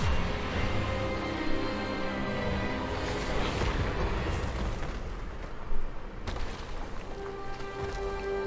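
A spell-casting effect in the Hogwarts Legacy video game, the disarming charm, fired as a dense, loud burst of magical whooshing and rumbling impact that fills the clip, with a sharper hit near the end.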